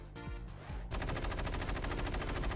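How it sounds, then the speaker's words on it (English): Gatling gun fire in the game TOME, a sustained, rapid, even stream of loud mechanical shots that kicks in after a brief lower-level opening and continues without pause. "Gatling guns."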